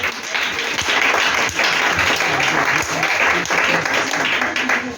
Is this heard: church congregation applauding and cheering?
yes